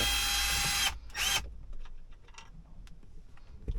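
Power drill whirring loudly on a Mercedes-Benz SLK while it removes the stereo screen bolts; a steady close whine runs for about a second, a second short burst follows, and quiet clicks and handling noises come after.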